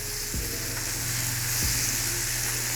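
Potatoes dropped into a hot, smoking pan on a fire grill set a steady, loud sizzle and frying crackle going, with a couple of low thumps as pieces land and no talking.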